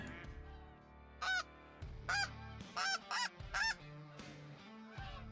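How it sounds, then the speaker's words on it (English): Several snow geese circling to land during a morning hunt give loud, nasal honks in a quick run of calls, close by over a quiet low background, with no one speaking. "it's so cool watching these snow geese come in like this"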